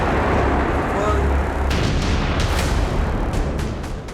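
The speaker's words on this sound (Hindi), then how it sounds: "बंकर बस्टर बम, इजराइल का नया हथियार" Bunker buster bomb blasts in the Israel-Palestine war in Gaza, a dense, continuous roar of rumbling explosions and bursts with sharp cracks, loud and sustained, with a voice talking over it.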